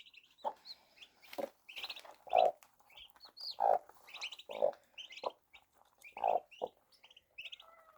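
A hen clucks in low, soft bursts while small turkey chicks she hatched peep in high, rapid chirps around her, close by and fairly quiet.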